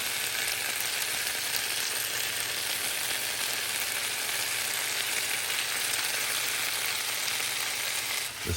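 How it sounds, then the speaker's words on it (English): Food sizzles and crackles loudly in a hot pan as it is stir-fried and mixed for a healthy meal, a continuous close frying hiss with a brief clatter at the end. "I'm stir frying it until it's a consistency that I prefer"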